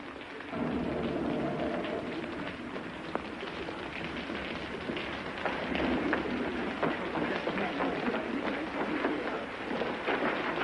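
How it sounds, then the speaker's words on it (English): Steady rain pours throughout, a broad continuous hiss with scattered drop ticks, fairly loud and close; a storm setting, with no talk over it. "Looks like rain."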